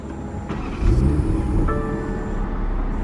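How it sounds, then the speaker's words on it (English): A 2020 BMW M340i starts up close by: a brief starter whir, then the engine catches with a rising burst and settles into a steady, fairly loud idle rumble, with no talking. "So let's go ahead and turn this car on."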